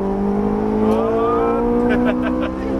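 Ferrari 458 Italia engine accelerating on a Las Vegas race track, a loud steady rising drone from inside the car, with faint ticking or shifting sounds near the end and some speech underneath.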